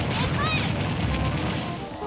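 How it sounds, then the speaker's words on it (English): A PK Flash attack lands in a 2v2 Super Smash Bros. Ultimate match, a loud crashing burst with bright, warbling sparkle tones layered over dense, continuous game noise. "There's a PK flash"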